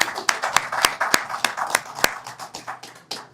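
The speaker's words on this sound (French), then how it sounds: "ça mérite une main d'applaudissement" Scattered clapping from a small audience at a Haitian festival announcement in Montreal: distinct, sharp individual claps, loosely in rhythm, fairly close and clear, with no talking over them.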